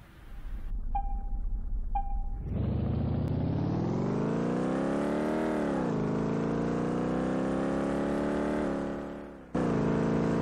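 Corvette engine in Car Mechanic Simulator 2018 on a race track, revving up steadily and holding high, dipping briefly, then cutting back in; loud and close, preceded by short electronic beeps.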